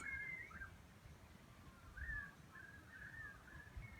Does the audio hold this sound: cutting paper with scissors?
no